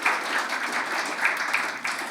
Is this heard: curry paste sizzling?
no